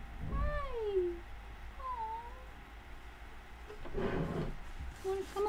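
A pet cat meows several times, rising and falling drawn-out cries close to the microphone, with soft background noise between them.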